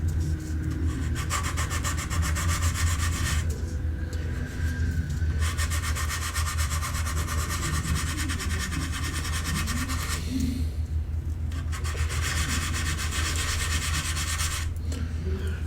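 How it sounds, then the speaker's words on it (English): Power grinder working seams on a Do 335 scale model, a steady rasping grind broken by short pauses near 4 and 10 seconds, sitting close and continuous over a low background hum. "I gotta grind this out of here."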